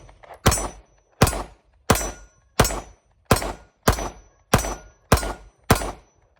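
Nine shots from a Fusion Firearms XP Pro pistol at a shooting range, sharp sudden reports spaced in an even rhythm about every 0.7 seconds, each decaying quickly, with no talking between them.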